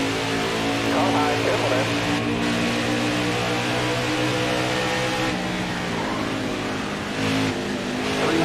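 Race car engines roar continuously in the NASCAR Heat 5 game during an Xfinity Series race at Iowa, a dense, loud drone of several cars revving and sliding in the closing laps, with a commentator talking over it.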